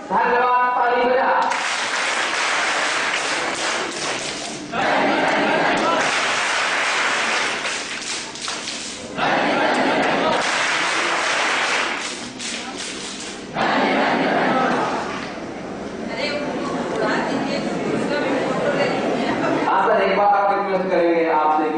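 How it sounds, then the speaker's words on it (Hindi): Bursts of audience clapping at a college honour ceremony, several loud waves of applause separated by short gaps, with a speaker's voice heard between and over them. "धन्यवाद, ताली बजा।"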